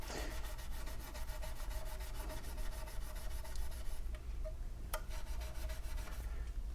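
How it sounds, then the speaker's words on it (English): A fret tool rubs back and forth along the wide frets of an Ibanez FRM 250 electric guitar, making a steady rhythmic scrubbing with quick repeated strokes, close and faint, with one sharp click near the end and nobody talking. "I figured I'd show you the process of polishing these frets up"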